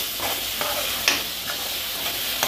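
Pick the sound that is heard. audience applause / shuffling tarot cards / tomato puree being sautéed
tomato puree being sautéed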